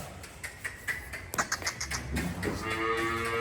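A dairy cow moos in a series of short, low calls, with a few brief sounds around them in a quiet outdoor setting.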